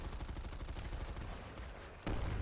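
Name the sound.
gunfire from a weapon in a video game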